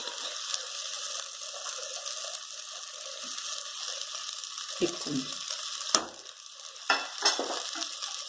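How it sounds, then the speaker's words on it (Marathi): Spice masala and crushed roasted peanuts fry in oil for a capsicum and potato dish, giving a soft continuous sizzle with a few sharp stirring clacks and scrapes near the end. "आता हे दोन मिनिट आपण भाजून घेऊ तेलात थोडंसं मसाला भाजा"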